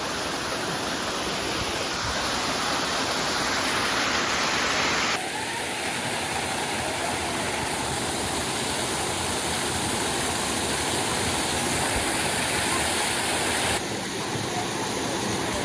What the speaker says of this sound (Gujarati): ઝરણું એટલું સ્પીડમાં આવે છે